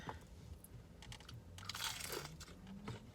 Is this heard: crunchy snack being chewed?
yes